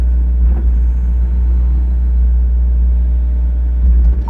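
A 2017 Doosan DX55-5K excavator idling and operating smoothly, a loud steady low diesel drone and rumble, close and continuous with slight swells, no voices.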